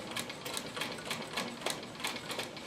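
A Royal Brother sewing machine stitches at a steady pace, a rapid regular chatter of needle strokes heard up close, continuous and fairly quiet, with no talk.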